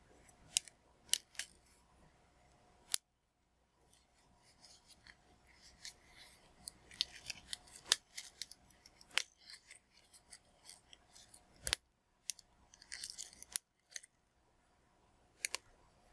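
Dry wild mustard seed pods from a finished winter plant crunched by hand, giving sharp, crisp crackles and clicks in irregular bursts with brief quiet gaps, close and fairly quiet.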